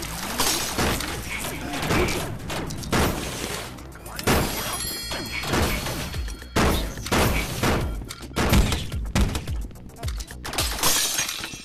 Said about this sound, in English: I'm breaking the roof.